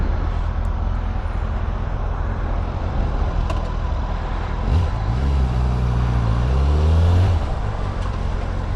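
A Kawasaki ZX6R 636 sport motorcycle engine while riding, a loud steady drone with a rising and falling rev in the middle, heard over constant wind rush.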